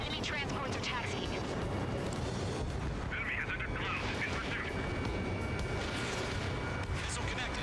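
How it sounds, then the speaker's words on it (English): Missile striking a target and exploding in the combat flight game Ace Combat 7, a dense, continuous roar of booms and rumbling blasts under constant jet and battle noise. "Missile connected."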